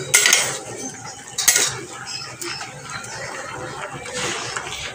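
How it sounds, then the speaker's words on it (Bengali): Dishes being washed by hand in a home kitchen, with clinking cutlery and knocking pots and pans in a few sharp bursts, then steady scrubbing and clatter close by. "বাসনগুলো মেজে দিলাম, তাড়াতাড়ি হবে।"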